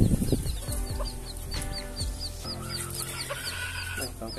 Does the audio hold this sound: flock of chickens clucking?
yes